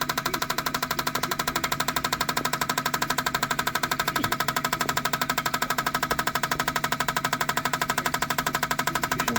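A cheap auction van's engine idles through an idle test, giving a steady rapid mechanical pulsing and ticking that holds evenly and fairly close throughout, with no voices.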